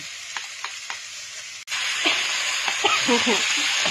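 Holy basil stir-fried with mushrooms and bamboo shoots in a hot pan, quiet scraping at first, then a sudden loud burst of hissing sizzle as food hits the pan, with stirring clatter over the steady fry.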